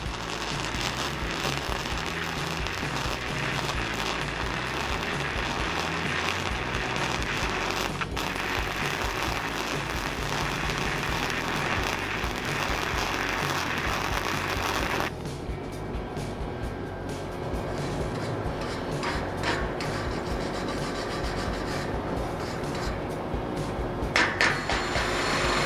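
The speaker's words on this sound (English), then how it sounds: "So I pull the flux gun toward me, allowing the flux to protect the hot metal." Flux-core arc welding with a Titanium Easy Flux 125 welder, the gun pulled back along hot metal. A steady, dense crackle and sizzle runs throughout, with a brief shift in tone midway, and no voices.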